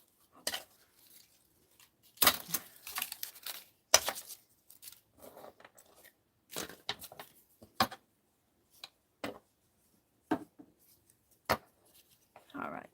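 Paper being cut for card making: a run of quiet, irregular snips and crisp paper rustles, some sharper clicks among them, at close range, with soft pauses between cuts.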